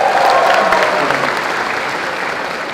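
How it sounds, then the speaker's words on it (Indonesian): An audience at a stand-up comedy show in Aceh breaks into steady, loud applause that stays full and continuous throughout, with a faint murmur of crowd underneath. "tepuk tangan dong"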